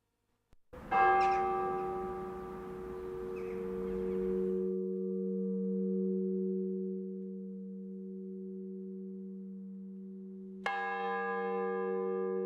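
Church bells in an Orkney kirk ring on a Sunday morning before the service. Two clear strikes each open into long, humming, sustained tones that carry steadily, with no voices.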